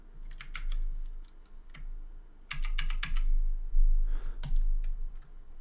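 An animation ID is typed on a computer keyboard, with bursts of quick, crisp key clicks separated by short pauses, recorded close up.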